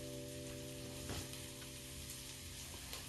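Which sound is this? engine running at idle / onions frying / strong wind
onions frying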